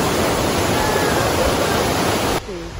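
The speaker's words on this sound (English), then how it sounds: "you're walking over a rushing river here" A rushing river in the Smoky Mountains beneath a log footbridge about six feet up, giving a loud steady broadband roar of water before it cuts off briefly at the end.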